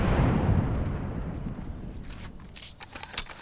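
A frag grenade blasts in the Apex Legends video game, heard as a deep rumbling boom that fades slowly over a few seconds, with a few faint clicks near the end.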